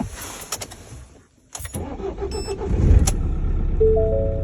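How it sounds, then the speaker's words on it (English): A self-converted campervan's diesel engine, warmed up after preheating on a cold Arctic trip, cranks briefly after a click and a pause, then catches and settles into a steady, loud close idle. "Right, so engine is pretty much up to temperature now. Let's see if she starts."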